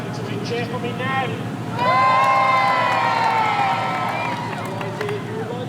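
A crowd at Beaulieu Supercar Weekend shouts and cheers for a twin turbo Mustang, starting with scattered calls and swelling into a loud, sustained wave of whoops in the middle before easing off.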